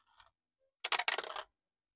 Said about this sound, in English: Roll 6-sided dice.